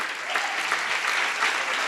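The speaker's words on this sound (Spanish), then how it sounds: "Un fuerte aplauso al Señor." Strong applause from a church congregation during a missionary house service, steady and dense clapping that fills the room for a couple of seconds.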